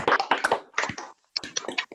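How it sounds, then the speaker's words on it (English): An online audience applauds over a video call after unmuting: scattered, uneven clapping from several people in bursts, with a short gap before more claps join in. "Can I invite everybody to unmute themselves for a round of applause for David"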